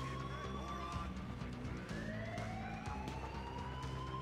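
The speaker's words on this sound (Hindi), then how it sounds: "सायरन चारों तरफ बज रहा है" Police sirens wail in the video game GTA 5, rising and falling in overlapping tones over a low engine drone, steady and moderately loud throughout.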